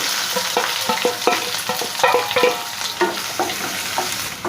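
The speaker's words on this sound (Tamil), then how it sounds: "நல்லா வெங்காயம் செவக்க வதக்கணும்." Chopped onions sauté in hot oil with cumin, pepper, dried red chillies and curry leaves for a dal sambar tempering, sizzling steadily up close while a spoon stirs and scrapes the pan in repeated strokes.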